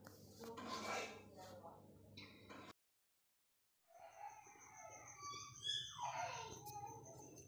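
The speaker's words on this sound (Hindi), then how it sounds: "बस इसको चलाते रहना है ताकि प्याज अदरक लहसुन सब चीज़ आपस में मिक्स हो जाए" Mutton handi gravy with onion, ginger and garlic stirred in a pot, a spoon scraping and clinking against the metal in quiet, uneven strokes, broken by a brief silent gap before the stirring resumes.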